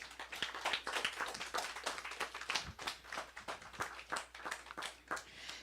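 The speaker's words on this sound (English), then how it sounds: "I think they deserve another round of applause" A small audience claps for young choir members at a spring church choir program, a loose, fairly thin round of handclaps sustained steadily throughout.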